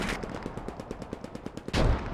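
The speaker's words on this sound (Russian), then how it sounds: "По нему арта бьет." Rapid bursts of gunfire crackle in a fast rhythmic string in the video game Post Scriptum, followed by a heavier booming artillery blast near the end, with no speech.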